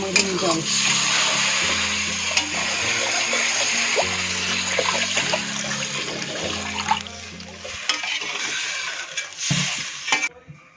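Masala frying in a hot pan for katla kalia, a loud close sizzle and bubbling with stirring scrapes over a low steady hum, fading near the end after a few clattering knocks.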